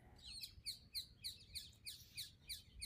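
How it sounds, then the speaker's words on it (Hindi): Birds chirp outside, faint and distant, in a regular series of sharp, high tweets about twice a second, with no voices. "बाहर से जिस तरीके से कोई आवाज़ आ रहा है, पक्षियों की चहचहाट, उसको सुनते रहें"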